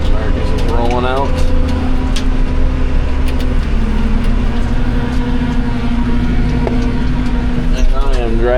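Steady car engine drone and road noise from inside a moving vehicle, continuous and fairly loud throughout, with a person talking over it in short bursts.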